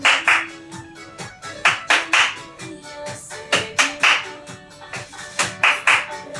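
Rhythmic hand claps during a chair interval training exercise class, sharp close claps landing in short groups of two and three with brief pauses between, loud against a quiet room.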